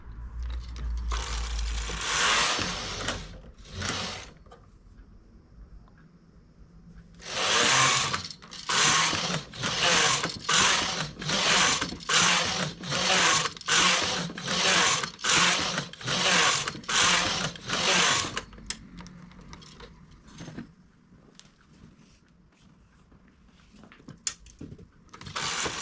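A knitting machine carriage is pushed across in straight rows while knitting a sweater front up to the shoulder, each pass a loud close rasping sweep, about a dozen in quick regular rhythm after a few slower strokes.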